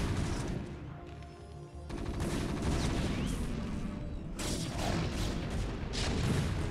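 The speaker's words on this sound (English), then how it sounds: "Oh, he's getting tank shots on the workers." Siege tank shots hitting workers in the video game StarCraft II, heard as a dense, rumbling barrage of repeated explosive booms and crackling impacts that carries on without a break at moderate level.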